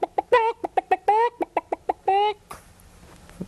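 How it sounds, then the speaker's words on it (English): A rapid, close, loud run of chicken clucks and squawks, about a dozen short bursts with a couple of drawn-out calls, ending in a short hiss. "Does that sound like a chicken?"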